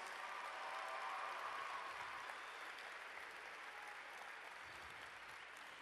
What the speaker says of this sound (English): So give them an applause.